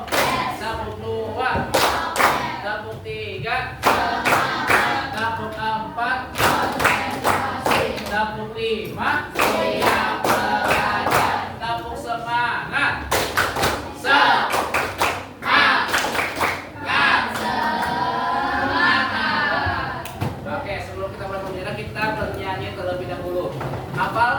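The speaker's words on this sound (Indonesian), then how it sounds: "Tepuk satu." Children in a classroom clap their hands in a clap routine, sharp rhythmic bursts of claps in patterned counts, alternating with a teacher's voice and children's chanting.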